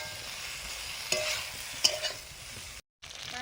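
Eggplant, salted and dusted with turmeric, frying in mustard oil with a soft steady sizzle, two sharper stirring clatters, then a brief silent gap before the sizzle resumes.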